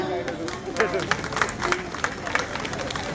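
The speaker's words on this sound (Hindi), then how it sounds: "जोरदार तालियां" A crowd claps at an outdoor political party celebration in West Delhi, with scattered sharp claps over loud chatter and a babble of voices.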